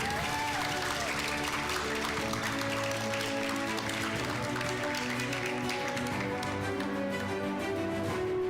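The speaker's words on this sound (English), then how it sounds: "A big round of applause to Mirza Arsh Beg Mogul." Applause fills a graduation ceremony hall as a student is recognized, a continuous crowd clapping layered under sustained music, steady in level throughout.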